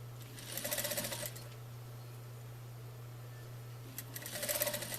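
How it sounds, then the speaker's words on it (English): A sewing machine stitches along the edge of fabric cording on a pillow, with two bursts of fast, even stitching at the start and end separated by a steady low motor hum, close and fairly quiet. "I just sew right along the edge of the cording"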